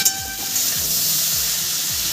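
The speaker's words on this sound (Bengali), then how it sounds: "সবজিটা সুন্দর করে আমি নেড়ে চেড়ে ভেজে নেব।" Vegetables for a Raikhor fish curry are stirred and fried in a pan, making a loud, continuous close-up sizzle with faint scraping sweeps.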